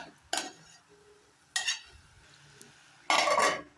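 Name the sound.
stirring cabbage curry in a pan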